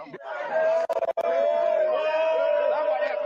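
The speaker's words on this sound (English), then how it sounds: "The obviously elated voters cheer and voting commences." Elated election voters cheering at a polling station, a close crowd of overlapping shouts and chatter with a sustained raised voice and a few sharp claps or bangs near the start.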